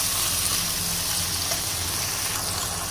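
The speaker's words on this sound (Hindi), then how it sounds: "3 मिनट तक अच्छे से हमने इसे फ्राई करना है।" Chicken fries in a tawa for tawa karahi, giving a steady, dense sizzle close up that holds constant for the whole stretch, with no voices.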